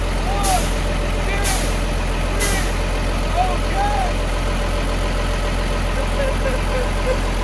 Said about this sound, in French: on est en train de purger le système pour pouvoir remettre la pression sur les freins